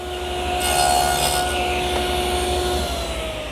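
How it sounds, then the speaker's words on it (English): A router with a guide fence and a 1/4-inch bit cuts mortises in clamped wooden cupboard stiles, a steady close, loud high whine with a constant pitch that runs for several seconds and eases off slightly near the end. "I'll have more support to use my router as I make the mortises"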